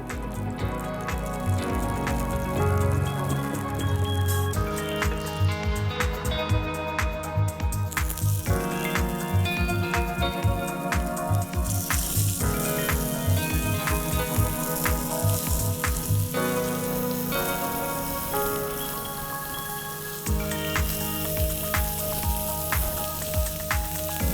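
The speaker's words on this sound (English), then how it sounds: "So our kebabs have hit the fire." Beef kebabs sizzle and crackle on an open fire, a steady frying hiss with dripping pops. A backing music track with a clear beat plays loudly over it throughout.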